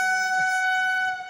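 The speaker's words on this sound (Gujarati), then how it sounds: "અમારે અહીંયા ટ્રેન આવી ગઈ છે કઈ છે બાંદ્રા એક્સપ્રેસ" The Bandra Express pulls into Morbi Junction with a loud, sustained two-tone horn that holds steady for over a second, then cuts off. Faint rumble sits beneath it and nobody speaks.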